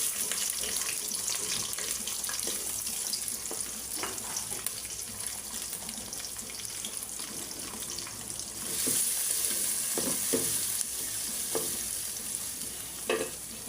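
Onions fry in mustard oil with cardamom, cinnamon, green chilies and bay leaves in a pan, a steady close sizzle with intermittent stirring scrapes and clinks throughout.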